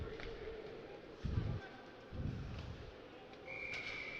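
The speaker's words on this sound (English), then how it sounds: "South Kent being offside. Cloutier drawing the whistle there" Referee's whistle blown for an offside call during a U16 ice hockey game, a short high tone near the end over crowd and arena noise, with a commentator talking throughout.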